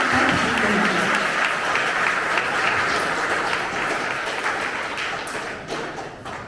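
Loud, dense applause fills a hall as a poet is welcomed at a Harivansh Rai Bachchan birth anniversary poetry event, sustained clapping that slowly thins toward the end.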